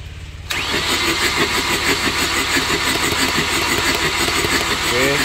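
Chevrolet Captiva diesel that smokes white and starts hard: the starter cranks briefly, then the engine catches and settles into a loud, close, slightly rough idle.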